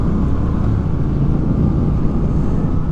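On a mountain road near Berthoud Pass in Colorado, a car rumbles past a Triumph Speed Twin motorcycle, its low steady drone blending with engine and wind noise for a few seconds.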